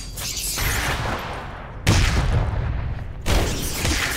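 Enemy gunfire in the Legend of Grimrock 2 video game, heavy booming shots in a couple of sudden loud bursts amid a noisy, rumbling background.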